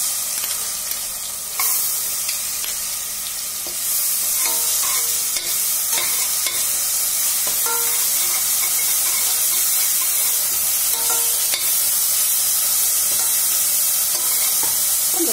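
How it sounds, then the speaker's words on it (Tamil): Browned onions with garlic fry for mutton biryani in a pan, a loud, continuous hissing sizzle with occasional stirring clicks and scrapes, no talking. "வெங்காயம் நல்லா ப்ரௌன் ஆயிடுச்சு பார்த்தீங்களா இப்போ வந்து இந்த பூண்டை சேர்த்துக்கலாம்"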